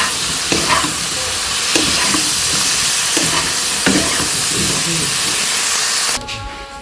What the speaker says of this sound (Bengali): এই সবজিগুলো ভালো করে কষিয়ে নিই এখন।